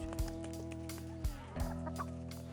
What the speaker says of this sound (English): I'll just come out here and watch the chickens.